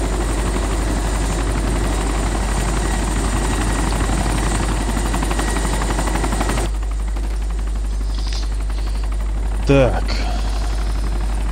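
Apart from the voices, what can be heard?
helicopter taking off in video game DayZ Epoch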